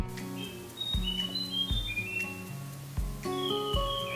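Vogelkop bowerbird calls: a run of sharp, clicking and whistled notes with rising and falling tones, coming in irregular bursts, fairly close and clear over a quiet background.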